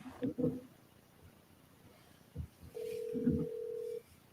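A telephone call ringing out and going to voicemail: a brief steady ring tone of about a second, preceded by short bursts of muffled sound.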